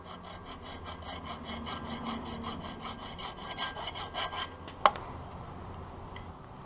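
Steady back-and-forth sawing or rasping while trimming a small piece of plastic during motorcycle handguard installation, with an even rhythmic stroke, then a sharp click near the end and quieter scraping after.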